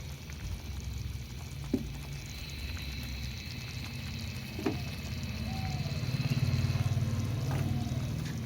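Green chillies and coriander go into a pot of cooked mash dal, which keeps up a steady low sizzling bubble that grows slightly louder, with a couple of faint utensil clicks.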